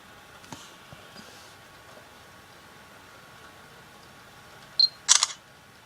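A Samsung Galaxy S2 smartphone camera takes a flash photo, giving a short electronic beep followed by a sharp, close shutter click burst against a quiet background.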